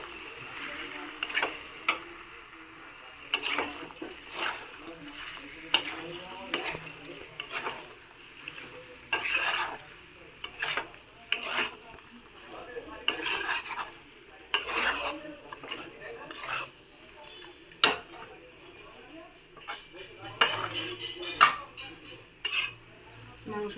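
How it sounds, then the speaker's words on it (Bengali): Chicken being stir-fried in a pan, with repeated sharp scrapes and clinks of a utensil against the pan in an irregular rhythm over a low, faint sizzle. "মাংসটা এবার ভালো করে কষাতে থাকবো।"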